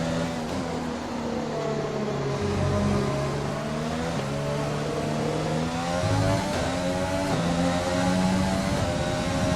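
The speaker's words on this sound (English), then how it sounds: "Leclerc now is zooming past us really." Formula 1 cars in the F1 2020 video game race at the Vietnam Grand Prix, loud high-pitched engines whining and shifting up and down through gears as they accelerate and pass close by.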